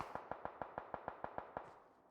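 Distant gunfire in the PUBG Mobile video game: a steady string of about nine faint, evenly spaced muffled shots in quick rhythm, each with a short echo tail, then fading out.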